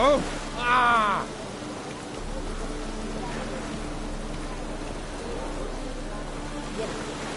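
Heavy rain in the video game The Witcher 3 pours in a steady, dense hiss, preceded by a brief voice-like exclamation at the start.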